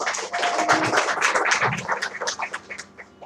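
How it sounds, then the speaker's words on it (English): An audience applauds in a hall at an event honouring guests, a dense burst of many hands clapping that thins out and fades over a few seconds. "We can have a clap for them."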